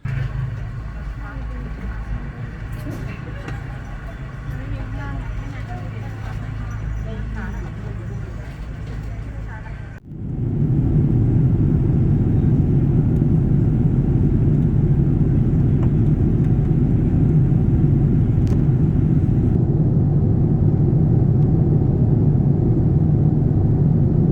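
Steady low droning roar inside the rear economy cabin of a Thai Airways airliner on a two-hour night flight to Bangkok, window seat near the back, growing louder and broader after an abrupt shift partway through.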